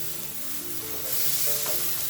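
Tomatoes sizzle and fry in hot oil in a pan for a Kerala-style fish curry, a steady close crackling hiss that swells slightly louder partway through.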